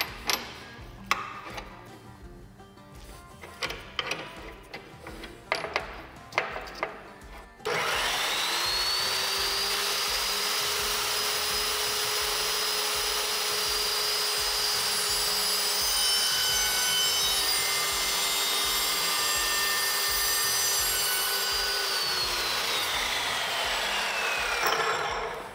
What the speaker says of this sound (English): I'm gonna do a test cut on this thing because I've never cut a hydraulic hose with this.